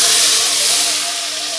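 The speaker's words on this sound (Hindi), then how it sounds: "तड़का हमारा लग गया" Cumin seeds for a tadka sizzle in hot oil over whole masoor dal, a loud, close, hissing sizzle that fades slightly.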